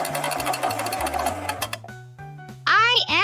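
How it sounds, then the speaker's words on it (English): A sewing machine runs steadily with a repeating mechanical pulse, clear and close, with a brief higher whirring burst near the end. "I am sewing"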